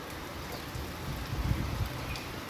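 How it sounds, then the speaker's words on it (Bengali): Heavy monsoon rain falls outside a house, heard from indoors as a steady soft hiss with a denser patter swelling in the middle. "এই যে কেমন বৃষ্টি পড়ছে দেখুন"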